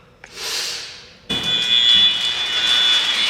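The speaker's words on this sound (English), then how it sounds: "seeing who can do the highest wind speed without getting dragged into the fan" A giant fan in an extremely windy room roars into high-speed wind with a sudden loud rush and a steady whining tone, after a shorter burst of blowing air.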